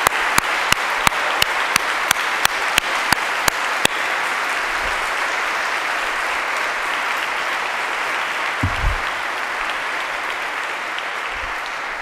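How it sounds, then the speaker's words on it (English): Church congregation clapping for a parishioner, a broad, even patter of applause that starts with a few sharp distinct claps and carries on steadily for around twelve seconds, with faint low thumps from the room near the end. "let's give a round of applause to Zacchaeus Rutledge"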